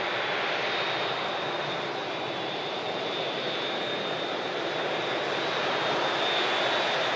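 A jet airplane roars at Manchester Airport, a broad, steady rushing engine noise with a thin high whine running through it, holding constant and fairly distant throughout with no talk.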